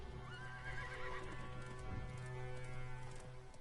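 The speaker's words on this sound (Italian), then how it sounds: "Piglia il cavallo." A horse in the video game Realm Royale whinnies loudly with a rising, wavering neigh over a steady game-engine hum, with faint hoof clip-clop underneath and no talk.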